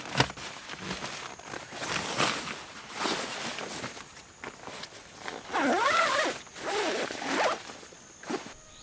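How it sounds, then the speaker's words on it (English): A tent door zip opens out to the side at a canoe campsite, giving several quick ripping pulls in bursts, close and clear, with faint rustling between strokes. "it's really nice to have that zip that sort of opens out to the side"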